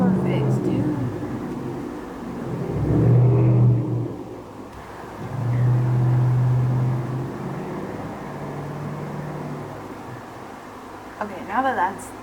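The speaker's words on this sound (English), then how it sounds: "Get your muffler fixed, dude." A car with a loud, broken muffler drives past, its deep rumble swelling twice in strong, throaty bursts, then fading to a lingering drone as it moves off down the street.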